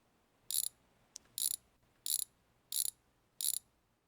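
Ratcheting a wrench on the oil pan bolts of a BMW E36 with a hydrolocked engine, five short bright ratchet bursts at a steady pace with a small click between, close and alone.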